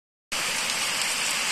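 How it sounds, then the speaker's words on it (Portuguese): Rain falling with wind at night in Timbaúba dos Batistas, Brazil, a dense steady hiss that starts abruptly and continues evenly and fairly close, with no voices. "a chuva chega com vento"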